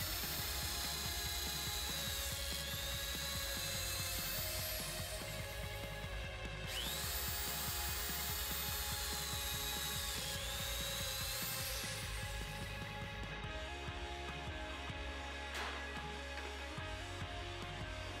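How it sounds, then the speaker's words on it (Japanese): A power drill whines loudly in long sustained runs through a Kreg pocket-hole jig drill guide, pitch rising and falling as it bores pocket holes, with brief pauses between passes. "あとはドリルガイドにドリルを差し込んで加工するだけです"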